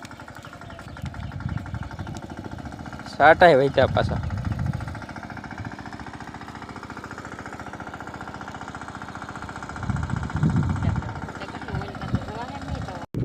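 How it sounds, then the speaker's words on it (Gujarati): A tractor engine on a farm keeps up a steady, rough mechanical chugging under a voice, with louder bursts of nearby talk early and late. "ટ્રેક્ટર આવી ગયું છે."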